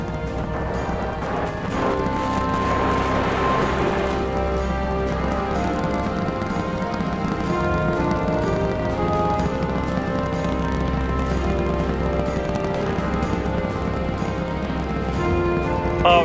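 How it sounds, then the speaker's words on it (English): A dense, continuous roar with crackling texture from a SpaceX Starship Super Heavy booster with 32 of 33 Raptor engines lit after liftoff on the fourth flight, loud and sustained throughout. "We're seeing 32 out of 33 engines lit on the Super Heavy right now"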